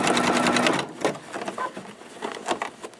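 A sewing machine runs a zigzag stitch down the side of a fabric box, a dense mechanical whir for the first stretch, then stopping into a few scattered clicks and handling taps.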